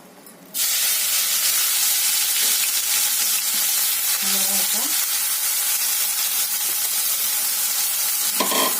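Leftover masala drops into hot oil in a kadhai and bursts into a loud, steady, close sizzle. Light scraping and stirring clicks run under it, with no talk.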